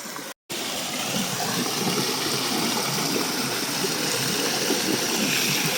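Water pours steadily into a bottle at a filling stop on a bicycle trip, a continuous close gushing rush after a brief pause at the start, with no voices.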